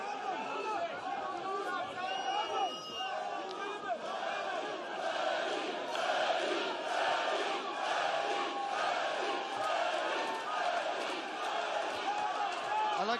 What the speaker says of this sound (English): I like a nice neutral crowd.